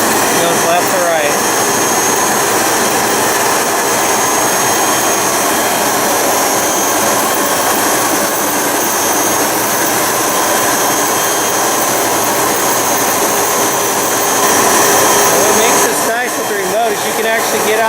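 ASL RT3 remote ride-on concrete grinder working with a 220V vacuum, a loud, steady whining roar that holds evenly throughout.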